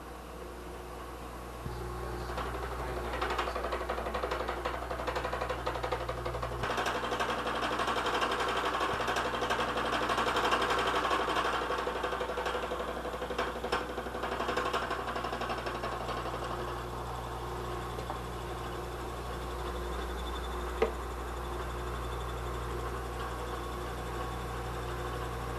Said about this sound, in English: So you can see how efficiently a fly cutter is capable of surfacing our workpiece.